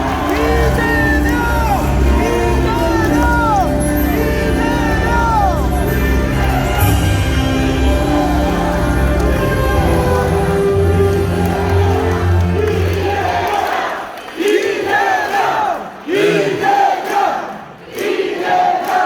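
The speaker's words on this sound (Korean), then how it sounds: "건강한 응원의 큰 박수 부탁드립니다." A large crowd at a political party rally in a hotel hall cheers, shouts and claps loudly for a long stretch, then the noise breaks into scattered whoops and calls.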